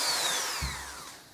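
An angle grinder winds down after working on an old Triumph 650 motorcycle silencer, its high whine sliding downward and fading over about a second, with a brief low knock partway through.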